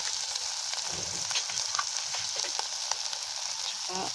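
Cooked sea urchin with a little salt sautéed in a pan, a steady close sizzle with occasional stirring scrapes throughout and no voices.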